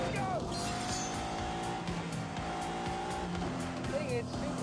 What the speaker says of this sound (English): V12 could take the Countach to 186 miles an hour, or to be precise, more than the Ferrari.